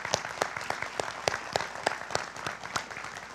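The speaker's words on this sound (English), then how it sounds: "One more round of applause, please." Applause from the audience at a Central Penn College commencement ceremony, a dense, steady clapping from many hands lasting the whole stretch with no voices over it.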